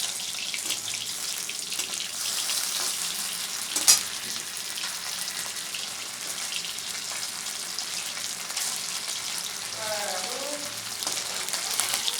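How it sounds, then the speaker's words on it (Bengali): Small chuno fish fry in a pan for a spicy fish curry, with a steady, close hiss of sizzling oil throughout and a faint voice briefly in the background near the end. "মাছগুলো লাল লাল করে ভাজা হয়ে গেছে এবার আমি মাছগুলোকে তুলে নিচ্ছি"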